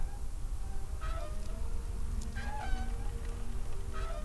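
A cat in the point-and-click adventure game Deponia Doomsday lets out several short meows over a steady low background hum, spaced a second or so apart.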